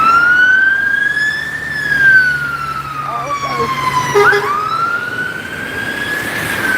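A Scania fire truck's siren rises and falls in long, loud sweeps as it passes close by on a Gloucester street, its pitch dipping and recovering, with an exclaiming voice briefly heard beneath it.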